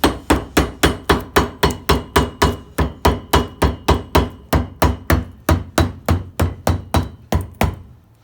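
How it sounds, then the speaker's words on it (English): A hammer knocks along the repaired join of a dog-chewed leather boot, striking roughly thirty times in a steady, even rhythm of sharp, close thuds with no talking. "go around and just knock it with the hammer."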